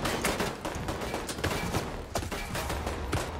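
Dense gunfire in The Division 2, with overlapping shots and volleys cracking continuously over a noisy battlefield backdrop, loud and close throughout.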